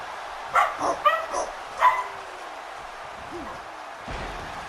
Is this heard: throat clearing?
no